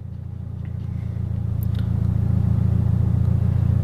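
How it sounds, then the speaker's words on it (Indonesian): A car close behind on a road during a house move, its low engine rumble steady and slowly growing louder across the few seconds, with no talk. "ada mobil guys di belakang Rian"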